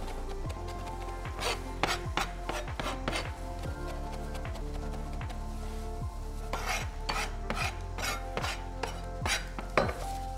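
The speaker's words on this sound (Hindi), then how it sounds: "बिल्कुल बारीक चॉप कर लेंगे" Fresh green coriander with its stems being finely chopped with a knife on a board, a quick irregular run of sharp chopping taps close up, without talk.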